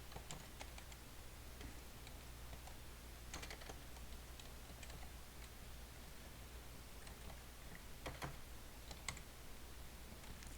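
Computer keyboard typing while writing React code, a steady stream of light clicks and taps with irregular bursts over a constant background hiss, close and moderately quiet.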